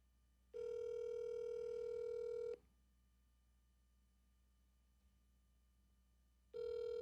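A phone call ringing out, with a loud steady ringback tone lasting about two seconds, then a long silent gap before the next tone begins, heard clearly with no talk.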